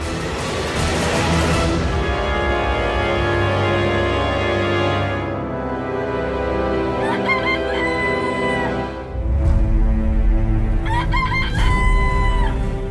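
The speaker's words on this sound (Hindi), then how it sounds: "मुर्गे की ध्वनि" A rooster crows at dawn, its long drawn-out calls ringing loud and clear twice in a row over a steady layer of background music.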